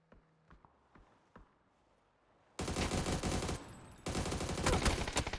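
Gunshots in a PUBG esports league match: faint footsteps and soft taps come first, then loud sustained automatic fire erupts in two heavy bursts with a brief lull between.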